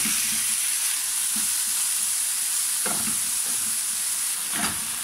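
Chicken seasoned with paprika, salt and pepper sizzles and browns in a hot pan, a steady close frying hiss broken by a few soft stirring scrapes, with no talking.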